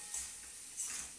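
Hilsa fish fries in a pan with a soft, quiet, even sizzle and faint stirring scrapes.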